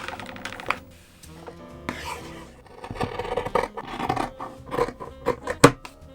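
Scissors cut through tote bag fabric in a series of crisp snips and scraping rustles, close and irregular, with quiet handling pauses between cuts.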